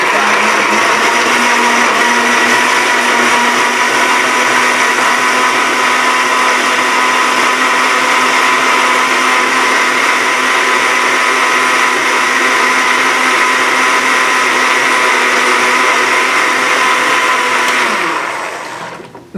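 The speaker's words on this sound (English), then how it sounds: "Blend the crap out of your paper." A kitchen blender churns scrap paper and water into pulp, a loud, steady, close motor whine with a grinding rush that runs unbroken for nearly twenty seconds before cutting off.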